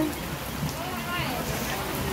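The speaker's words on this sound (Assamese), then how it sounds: "বৰষুণ পৰিছে পুৰা এনেকে" Heavy rain pouring down in a village, a dense continuous hiss of drops on surfaces, with a voice speaking over it.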